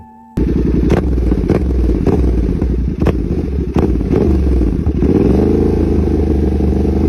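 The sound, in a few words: 270-degree parallel-twin motorcycle engine revving, Ducati-like sound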